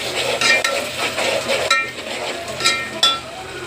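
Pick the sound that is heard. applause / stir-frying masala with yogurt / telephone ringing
stir-frying masala with yogurt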